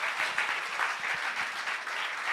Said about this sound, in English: Let's give her a wonderful hand of applause.